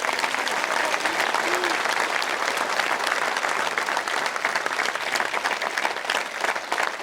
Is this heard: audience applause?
yes